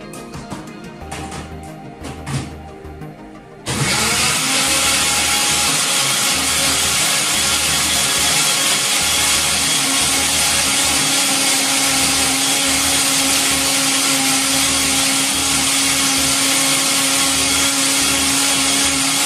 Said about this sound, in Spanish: un hielito, 2 hielitos. Y vamos a licuar.